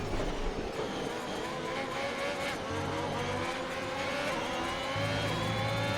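Race cars in a racing video game at a British circuit run side by side down a straight, their engines whining at a steady, high pitch throughout, with no voices over them.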